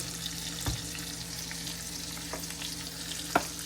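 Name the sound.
whole yellowtail snapper frying in oil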